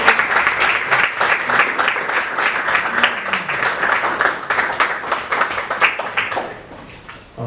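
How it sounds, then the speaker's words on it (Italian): Lively audience applause at a book presentation, brisk close clapping from a modest crowd holding steady for several seconds before thinning out near the end. "Un applauso a sotto il maglione."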